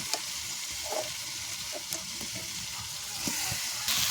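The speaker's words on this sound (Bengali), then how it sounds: "দিয়ে দেবো ভাজা ফুলকপিটা" Fried cauliflower dropped into a hot pan with green chillies, a brief close sizzle with a few spoon scrapes and clinks.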